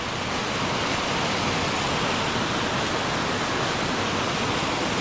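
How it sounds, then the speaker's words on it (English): Huskey Branch Falls, a woodland waterfall along the Little River Trail, pours in a steady, dense rushing hiss that stays even and unbroken from start to finish. "But here's the waterfall."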